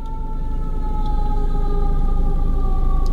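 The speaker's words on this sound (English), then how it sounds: "Why is that ambulance?" An ambulance siren passing outside, loud and steady, holds a sustained wailing tone over a low traffic rumble for the whole span, with no talk.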